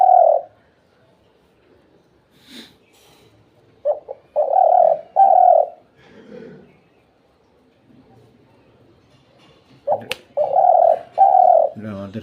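An 11-month-old pet bird brought from across the Padma river coos in loud, close, droning bursts, several in a row, with quiet pauses between the phrases.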